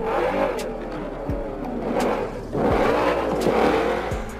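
A Porsche Cayenne SUV engine accelerates with a strong, rising rev that swells and climbs in pitch in two surges, close and loud, with no voices.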